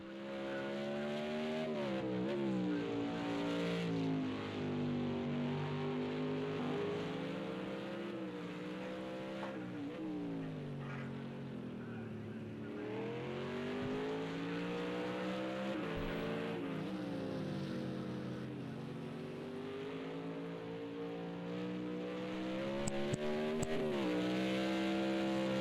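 GT1 race car engine in a video game on a lap of Fuji, a loud sustained roar rising and falling in pitch through gear changes, with a brief tire squeal near the end.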